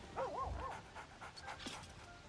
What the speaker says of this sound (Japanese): ワンちゃん、スクラッチ